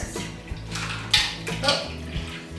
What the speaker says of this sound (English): So I'm just gonna pour myself a glass and see what it's like.